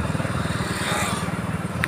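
Motorcycles pass on a road beside a canal, giving a close, steady putt-putting engine rumble with rapid rhythmic pulses, faint voices underneath.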